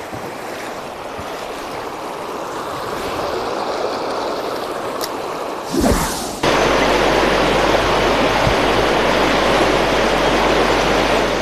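The Cinca river flows near Monzón as steady broadband water noise, a continuous rushing wash with no pauses, and it grows louder and denser partway through.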